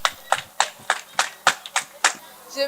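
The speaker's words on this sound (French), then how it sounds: "Applaudissez pour vous." A small group at a school event claps in a slow, evenly spaced rhythm, about nine sharp distinct claps, close and fairly loud, ending as a voice begins.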